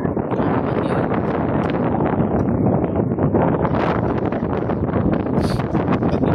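Strong wind buffets the microphone outdoors, a loud continuous roar with gusty surges and some rustling, no voices.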